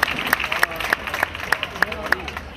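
Audience applauding a contestant at a local pageant, with distinct sharp claps at a rhythmic beat over a crowd murmur and babble, moderately loud and close.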